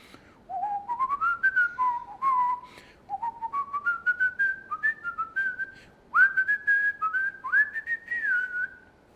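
A person whistles a tune in short repeated melodic phrases, clear and close, the same hook looping over and over with brief pauses between phrases.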